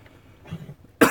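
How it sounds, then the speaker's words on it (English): One sharp cough bursts out at the very end after a near-silent stretch inside an old VW Bus, close and clear. "That's the first time I've heard you cough."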